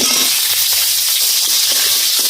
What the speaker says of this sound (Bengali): এবার দিয়ে দিচ্ছি কেটে রাখা আলু।